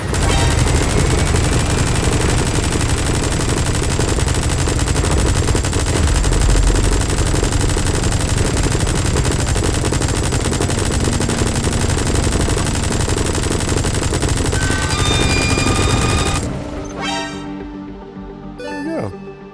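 Rapid, continuous automatic gunfire fills a Metal Gear Solid V: The Phantom Pain firefight at full loudness, then cuts off into a quieter tail of a few scattered shots and electronic tones.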